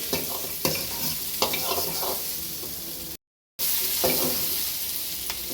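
Green, yellow and red bell peppers sizzle steadily while being stir-fried in a pan for an orange chilli chicken dish. Clanks of the spatula sound at intervals, and the sizzle breaks briefly before resuming.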